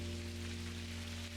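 Steady rain falling outside in the video game Necro Barista, a continuous soft patter over a low, sustained hum of game ambience.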